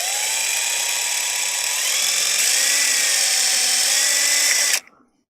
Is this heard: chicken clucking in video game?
no